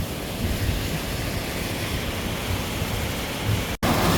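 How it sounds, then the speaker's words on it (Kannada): Kunchikal Falls on the Varahi River in Karnataka roars in a steady, loud, unbroken rush, with no voices, cut by a brief dropout just before the end. "ವರಾಹಿ ನದಿಯ ಫಸ್ಟ್ ಸ್ಟೆಪ್ಪಿನ ಜಲಪಾತದಲ್ಲಿದ್ದೀವಿ ಇದರ ರಂಸ ನೋಡಿ ಅದು ಹೆಂಗೆ ಸೌಂಡ್ ಇದೆ ಅಂತ ಹೇಳಿ"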